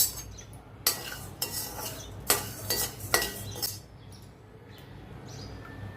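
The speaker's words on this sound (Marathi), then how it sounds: "बाजरी भाजून घेऊया।" Pearl millet (bajra) grains being stirred as they dry-roast in a pan, a utensil scraping and rattling the grains in several close, loud bursts, with quieter stirring between them.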